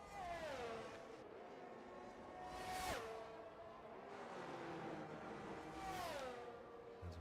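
A Formula 2 race car in F1 22 accelerates flat out around the Baku street circuit in Azerbaijan, its high engine whine climbing through the gears with rising pitch sweeps and brief drops at upshifts, loud and continuous.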